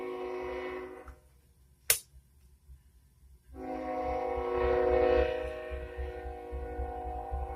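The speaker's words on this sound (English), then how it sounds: "excuse that train" A train's loud horn blares, drops out briefly with a sharp click, then sounds again in a long sustained blast over a low rumble.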